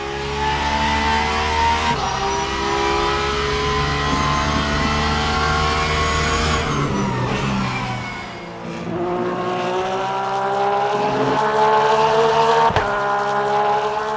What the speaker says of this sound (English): the typical Porsche note is just awesome sounding in my opinion